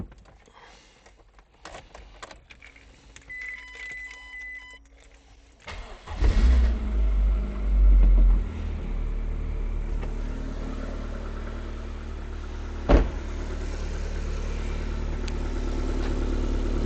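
An MG TF with a 1.6 litre K-Series engine cranks and starts after a few quiet seconds of clicks and chimes, then settles into a steady, close idle with a brief sharp knock partway through.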